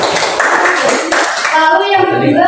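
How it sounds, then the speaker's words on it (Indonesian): Classroom applause for a student group during a micro-teaching lesson, a short burst of clapping that gives way to a voice speaking at the end. "tepuk tangan untuk kelompok visual"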